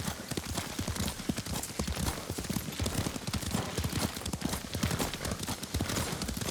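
Horse hooves clip-clopping steadily in rapid rhythm while riding in Ghost of Tsushima, a continuous galloping patter under a low rumbling backdrop.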